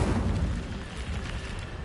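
Casting the Incendio fire spell in a Harry Potter video game gives a dense, rumbling burst of flame. It sounds loud and sustained for under two seconds, with no speech.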